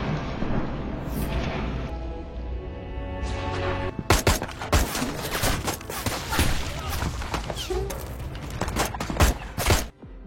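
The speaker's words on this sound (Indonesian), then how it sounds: "Baku tembak terus berlangsung." Heavy gunfire in a gunfight between special forces and militant rebels: after a quieter start with a couple of distant bangs, dense overlapping shots and rapid bursts crackle loudly for the rest of the scene.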